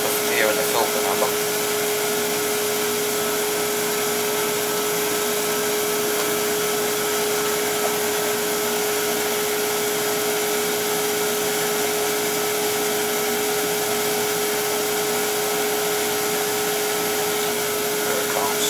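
An oil boiler's fuel pump runs as air is bled from the fuel filter, giving a loud, steady droning hum with a constant pitch, unbroken for the whole stretch.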